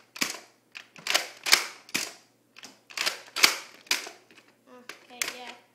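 A Recon CS-6 toy foam blaster with its barrel attached fires repeatedly, giving a string of sharp, close snapping pops at an uneven pace, with someone speaking briefly in between.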